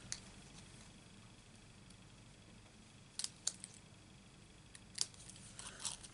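Scissors cut through vellum while shaping paper butterfly wings and antennae. Faint, crisp snips come in small clusters against a quiet room, with no talking.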